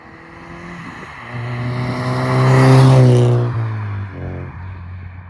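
A 30-year-old Ford Escort's engine hums from inside the cabin, rising as it accelerates and then easing off, a steady road drone throughout.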